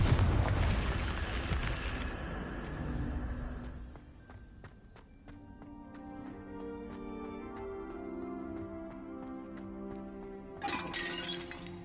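A Confringo spell in the video game Hogwarts Legacy goes off with a loud, close blast and shattering crash that fades into rumbling debris and crackles, then a second brighter burst near the end.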